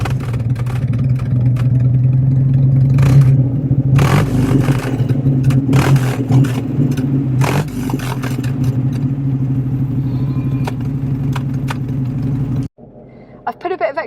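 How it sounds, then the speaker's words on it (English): An Austin A90 Atlantic engine, heard from behind the car, running steadily with a deep, throaty rumble, with occasional revs and clatter before it cuts off abruptly near the end. "I'll let you hear from the outside, from the back of the car"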